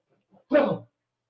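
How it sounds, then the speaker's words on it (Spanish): Pet dog in a home study room giving a single short bark or yip in the background, brief and fairly faint against silence. "tengo mi perro acá y es mi compañero de estudio y demás, y estaba haciendo ruido"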